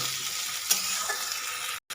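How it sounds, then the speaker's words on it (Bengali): Grated ginger and onion fry in a pan for a Bengali fish-head and bottle gourd ghonto, giving a steady close sizzle with light stirring, alone, ending in a brief cut to silence. "এবার আদাটাকেও পেঁয়াজের সাথে খুব ভালো করে আমি ভেজে নেব"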